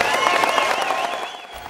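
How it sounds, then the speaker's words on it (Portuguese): Crowd applause at a Portuguese bullfighting festival, a dense wash of many hands clapping at moderate loudness that fades slightly toward the end, with cheering voices mixed in. "a vocês todos uma grande salva de palmas"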